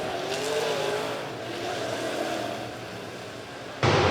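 Late model race cars run side by side in a pack at a memorial dirt-track feature, giving a steady, broad engine roar throughout that jumps louder near the end as cars come closer.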